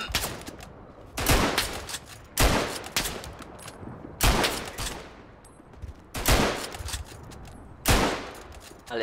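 Pistol shots crack out in the World War I shooter Verdun, five loud, evenly spaced reports, each with a short echoing tail over quieter battlefield noise.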